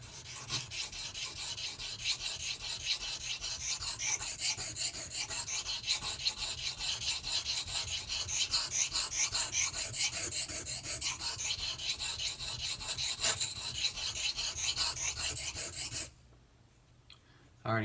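A Ganzo auto knife blade gets a convex edge resharpened, making continuous close rasping strokes against the abrasive at an even rhythm that stop abruptly near the end.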